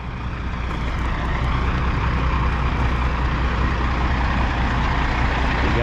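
A truck's engine rumbles steadily and loudly as it pulls in through a gate, a constant low drone with no talk.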